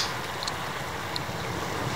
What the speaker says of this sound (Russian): шум волн приятный